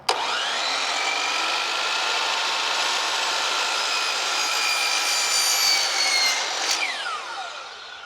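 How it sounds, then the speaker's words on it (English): A miter saw fitted with a Trex blade cuts top and bottom composite deck rails together in one loud, continuous high-pitched whine of blade through material lasting about seven seconds, then spinning down. "I'm going to cut both the top and bottom rail at the same time with this miter saw"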